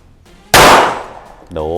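A single loud, sharp gunshot from a CZ 75D Compact pistol at a shooting range cracks out up close and rings briefly before a voice starts to speak.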